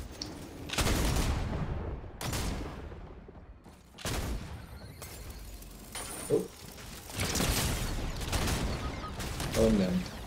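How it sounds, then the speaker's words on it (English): Players trading gunfire in the video game Fortnite: several separate bursts of shots, some sharp and close, others duller and farther off, scattered across ten seconds with voices talking between them. "Oh, somebody shooting."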